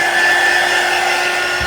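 A hot air craft tool, hotter than an ordinary hair dryer, blows with a steady, loud, close whooshing roar and a faint whine, unchanging from start to finish.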